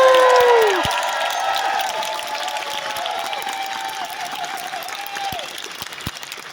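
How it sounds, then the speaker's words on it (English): Applause from a comic convention audience rises loud at first, then settles into steady, moderate clapping that carries on for several seconds, with a few scattered cheers. "One more huge round of applause."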